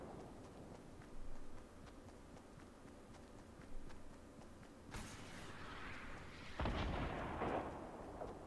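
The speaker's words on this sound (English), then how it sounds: "This guy's got a rocket launcher." Rocket launcher blasts in the battle royale video game Fortnite, a sharp distant-sounding boom followed by a heavier rumbling explosion with a long tail over low background game noise.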